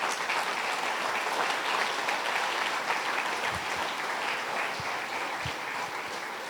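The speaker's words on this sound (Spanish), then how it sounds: "denle un gran aplauso a nuestro Rey" A church congregation gives a big round of sustained applause during a Sunday sermon, dense steady clapping from a large crowd throughout.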